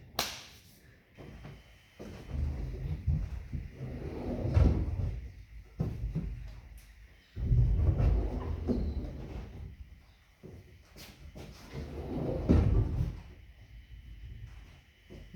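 A sliding door on a boat under construction rumbles open and shut several times, each slide a heavy rolling whoosh ending in a knock, nearby with short pauses between.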